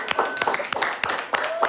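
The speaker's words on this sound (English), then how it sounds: "with a huge round of applause, let's welcome our guest" A studio audience claps to welcome a guest onto a talk show, with sparse, uneven claps and voices talking over them.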